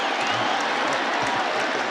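Steady stadium crowd roar at a college football game, Wagner Seahawks at Syracuse Orange, swelling during a long run, dense and continuous with no voices standing out.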